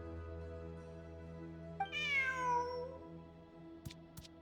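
A cat in Genshin Impact gives a single clear, drawn-out meow with a falling pitch, heard close over a soft sustained game music bed, followed by a couple of quick clicks.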